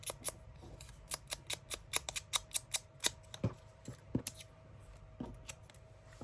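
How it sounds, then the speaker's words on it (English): Sharp scissors snip steadily through paper, cutting out butterfly shapes for a junk journal craft project; crisp, close clicks come in a quick, fairly regular rhythm and slow into sparser cuts near the end. "you want to cut the butterflies out"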